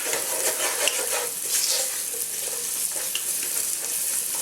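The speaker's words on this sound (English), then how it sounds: "saute for just another few seconds for the hot oil to pull out the essential oils from the whole spices" Whole spices such as cinnamon and cloves sizzle and crackle steadily in hot oil, a loud, dense, continuous frying hiss close by with no talking.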